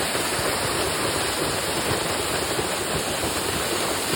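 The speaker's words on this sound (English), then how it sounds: "So this is the edge of the cliff, the falls." A waterfall pours over the cliff edge at Fairmont Hot Springs Resort in a dense, constant roar, loud and close, with no voices over it.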